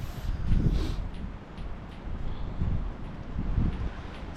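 Gusty wind buffets the microphone in uneven waves, a low roaring rumble that swells and fades with no voices.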